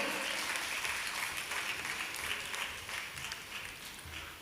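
An audience at a Palakkad heritage-district award ceremony claps steadily for several seconds, a dense, sustained wash of applause from a hall crowd with no break.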